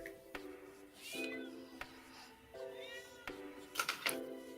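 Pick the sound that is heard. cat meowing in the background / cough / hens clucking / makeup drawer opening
cat meowing in the background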